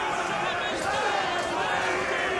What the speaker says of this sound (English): Oh, they're cheering.